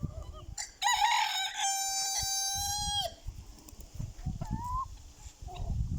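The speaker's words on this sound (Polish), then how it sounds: "O, kogut idzie już." A farmyard rooster gives one loud, close crow of about two seconds, with hens clucking in short bursts before and after around a henhouse.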